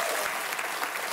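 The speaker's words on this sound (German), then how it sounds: "Dafür erstmal einen großen Applaus, super." A studio audience at a German satire show gives a brief, dense burst of applause, steady and moderately loud throughout with no speech over it.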